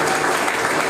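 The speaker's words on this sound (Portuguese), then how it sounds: "Aplauda o Senhor Jesus." A congregation applauding during an evangelical sermon, a loud, dense burst of clapping that stays constant throughout the brief moment.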